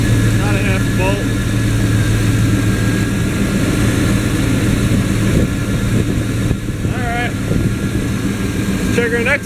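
A running NHRA truck engine hums steadily while faulty alternator brushes let out short, rising high-pitched squeals in a few bursts, with someone talking over the noise.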